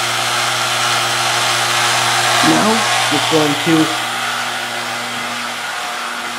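Vacuum pump drawing a vacuum on a fusor system, a loud, steady mechanical hum and whir that runs throughout while someone speaks briefly over it.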